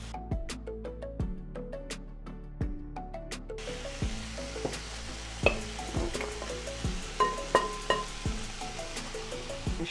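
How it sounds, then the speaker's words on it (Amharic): Cabbage hits a hot cooking pot for an Ethiopian fasting-style cabbage and potato dish and sizzles steadily and close. Repeated sharp clicks and scrapes come from stirring against the pot. "ጎመን አምጥተን እንደዚህ እንጨምራለን።"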